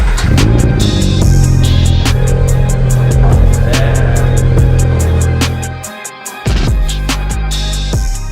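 A 2022 Subaru BRZ fitted with a new exhaust idles on a lift, giving a loud, steady, droning rumble that dips briefly near the end before settling back to an even hum.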